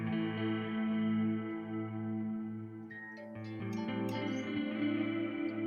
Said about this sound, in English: you can hear it's almost like a shimmer reverb a little bit.